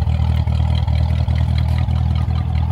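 A Corvette C7 Z06 fitted with a Borla X pipe exhaust idles with a loud, deep, lumpy rumble, its steady low pulses punctuated by regular small pops, close and continuous.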